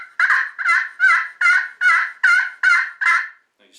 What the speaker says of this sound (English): This is a diamond wood striker